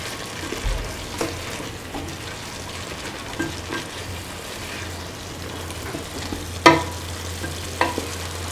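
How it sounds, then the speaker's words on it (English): Bottle gourd pieces and beef stirred in a pan: soft scraping and clacking of a utensil against the pan over a low, constant sizzle, with a few sharper knocks standing out. "Mix the bottle gourd pieces nicely with the beef and the rest of the mixture."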